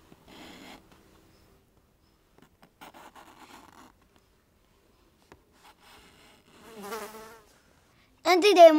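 A housefly buzzing around a person, heard as scattered faint whirring passes with quiet gaps, rising to louder, closer buzzes near the end.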